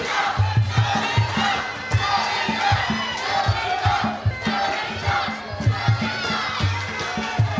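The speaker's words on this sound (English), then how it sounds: "I love getting the crowd going, Joey." A crowd yells and cheers at a martial arts fight, with a sustained roar of voices rising and falling over a pulsing low rhythmic beat.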